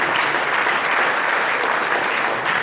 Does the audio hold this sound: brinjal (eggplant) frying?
no